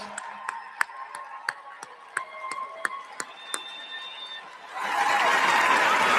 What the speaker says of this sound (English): give the families, parents, grandparents, spouses, partners, children, and loved ones a huge round of applause